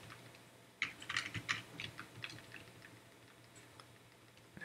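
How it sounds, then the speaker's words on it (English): Keys on a computer keyboard are tapped in a quick, irregular burst of faint clicks, then trail off into sparse taps in a quiet room. "Just by pressing Ctrl C and Ctrl V on the keyboard."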